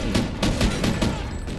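Automatic weapon fire in the shooter Call of Duty: Ghosts, set in Caracas, Venezuela, a steady string of loud, distinct shots at a moderate rate, sounding close and continuous throughout.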